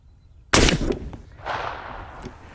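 A single loud shot from a Marlin 1895 SBL lever action rifle firing a 430-grain slug outdoors, a sharp blast followed by a rolling echo that fades over about two seconds.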